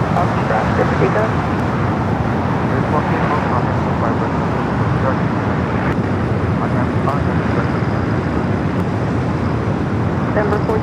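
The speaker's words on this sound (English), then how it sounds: "heavy 777 will be departing the airport" A Turkish Airlines Boeing 777 heavy departs LAX with a broad, steady jet roar that holds at a constant loud level throughout, while voices talk over it.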